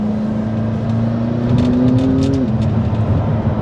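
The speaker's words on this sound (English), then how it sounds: "Just giving it a little throttle," A Lamborghini sports car engine held under light throttle, a steady droning tone that swells and rises in pitch midway before settling back, close and continuous with a faint whir.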